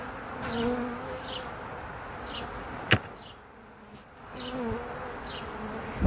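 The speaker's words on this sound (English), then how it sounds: "look at all those bees, man" A dense, continuous drone of a honey bee swarm buzzing close by, with individual bees zipping past now and then, and no voices.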